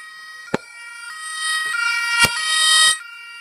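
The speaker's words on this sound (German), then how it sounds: "Blaulicht und Sirene." Toy police car siren giving a bright electronic wail that starts after a click and runs for about two seconds, with a few sharp plastic clicks around it.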